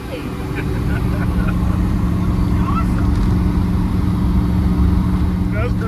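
A 1956 Chevy cruises down the road with a steady, loud low engine drone that builds over the first second, then holds even under continuous road rumble.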